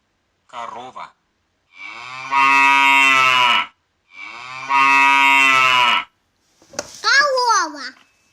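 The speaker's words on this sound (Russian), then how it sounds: "Корова." A cow moos in two long, deep, loud calls, close by, with a shorter bleating sound before them and a higher animal cry after them.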